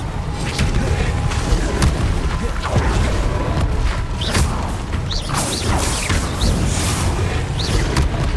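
Bombarda and Confringo spell blasts in the Hogwarts Legacy video game, a dense, continuous barrage of booms, crashes and whooshes with short whistling zips layered throughout, loud and busy with no pauses.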